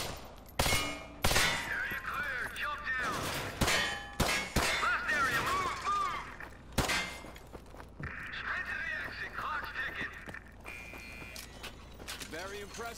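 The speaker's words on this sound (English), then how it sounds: "Hit marker from there." Hit markers in a first-person shooter game ring out as sharp metallic clangs and dings among bursts of gunfire, several quick repeated hits spread across the clip, loud and close while someone talks excitedly.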